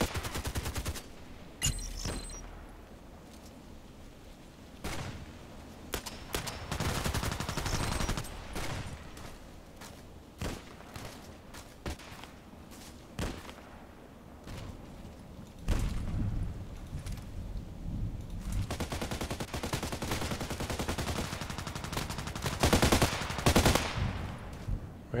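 Gunfire in a shooter video game comes in repeated bursts of automatic fire and single sharp shots, loud and close at times, with quieter gaps between volleys.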